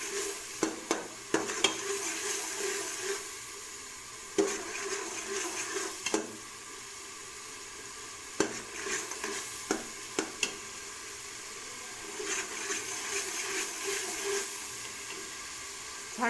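Masala and tomatoes roasting in a pan for an aloo methi matar mix-vegetable dish, a continuous close sizzle broken by sharp spoon clatters and stirring scrapes, no voices.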